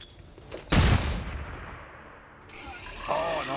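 Flashbang grenade detonating in XCOM 2: a single loud, sharp blast near the start that decays into a long ringing wash, followed by a quieter metallic tail and faint talk toward the end.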